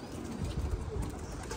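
Pigeons, several birds including ones kept in a loft, coo softly and low at close range, a steady murmuring throb that runs the whole time with no talk over it.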